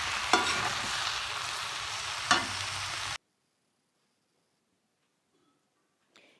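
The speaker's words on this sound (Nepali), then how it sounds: "नुन र बेसार चाहिँ सबैतिर लाग्ने गरी राम्रोसँग भुट्ने" Mutton stir-fried with salt and turmeric in a pan, close crackling sizzle with a couple of sharp scraping stirs, then it cuts to near silence followed by a faint brief clink.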